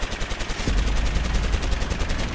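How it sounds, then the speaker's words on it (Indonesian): Rapid bursts of gunfire crackle in quick succession, loud and unbroken for a couple of seconds. "Semua senapan tertuju kepadanya dan memberondongnya dengan tembakan beruntun."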